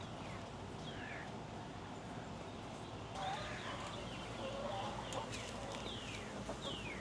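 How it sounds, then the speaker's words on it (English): Backyard chickens from a flock of fifteen cluck faintly and intermittently in their coop, with a steady outdoor background hum and other birds calling now and then. "A total of 15 chickens"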